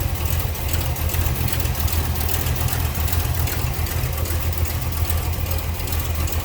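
A 1946 Ford two-door sedan street rod with electronic ignition and an Edelbrock four-barrel carburetor idling, a steady deep rumble with an even low throb, close up and loud, with no voices.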